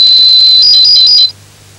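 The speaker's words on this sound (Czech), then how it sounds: "Překročení je signalizováno odlišným pípnutím, to značí, že už nelze nic vložit." A 1985 IQ 151 school microcomputer gives a shrill, high beep warning that the input limit is exceeded. The tone wavers in short stepped pulses for just over a second, then cuts off abruptly.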